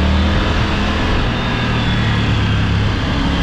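A Triumph Tiger 900 Rally motorcycle engine pulls under acceleration while riding, a loud, dense and steady roar mixed with wind rush throughout.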